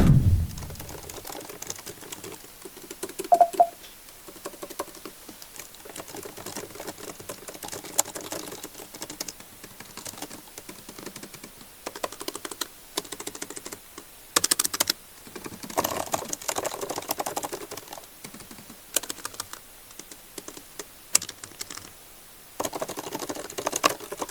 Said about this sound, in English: It's one of the best membrane keyboards that I've ever used